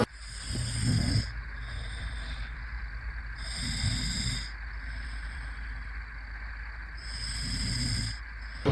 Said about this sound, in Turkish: Göster, yani horladığını gösteriyor. Sesi var.